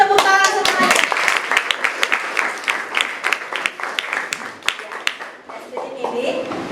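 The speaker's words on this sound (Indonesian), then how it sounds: "Oke, tepuk tangan semuanya." A school class claps hands together in a classroom, loud, brisk clapping with distinct sharp hand hits that thins toward the end, while a voice speaks over it.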